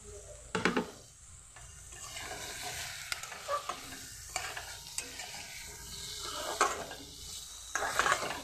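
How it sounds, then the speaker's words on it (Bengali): Potatoes go into a pan of frying spice paste and are stirred. Irregular spoon scrapes and clinks against the pan ride over a soft sizzle, with a few sharper knocks. No voices. "এখন আমি আলুগুলি দিয়ে দিচ্ছি"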